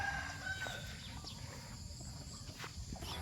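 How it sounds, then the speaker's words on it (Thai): A rooster crows faintly in the distance, with scattered clucks over a steady low rumble of background noise. "เสียงไก่"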